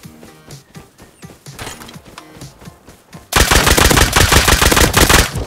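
A double-barrel shotgun fires in a survival video game, loud close blasts that grow into a dense, rapid volley of heavy gunfire in the last seconds, with no talk over it.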